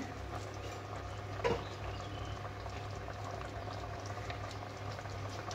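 Basanti pulao bubbles in a covered pot, a soft, steady low simmering rumble with a faint lid knock near the start.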